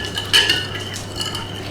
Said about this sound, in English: Give that a stir round.